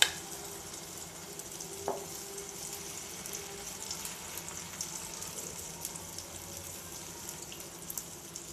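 Potato pancake batter sizzles in a hot pan, making a faint, steady hiss that holds evenly throughout with a small clink near the start and no voices.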